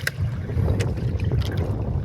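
A diesel boat engine runs at sea off Camiguin, a loud steady low rumble mixed with wind buffeting and water splashes.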